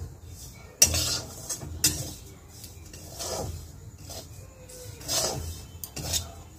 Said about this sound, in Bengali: সুজিটা ভাজা হয়ে গেছে